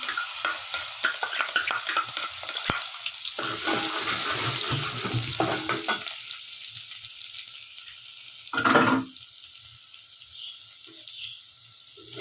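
Garlic added after curry leaves sizzles and crackles in hot oil for a mash dal tempering, with stirring scrapes and a brief louder splash partway through, no talking.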